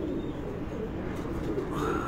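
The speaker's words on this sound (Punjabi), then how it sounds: "ਇਹ ਫਿਰੋਜ਼ਪੁਰੀ ਕਬੂਤਰ ਹੈ" Firozpuri pigeon cooing at a rooftop loft, a steady low murmur of soft coos that runs continuously and evenly at moderate volume, with no voices.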